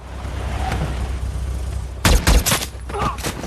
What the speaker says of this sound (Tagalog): Sa isang misyon pagbalik niya sa Iraq, ay binaril sa mukha si Biggles ni Mustafa.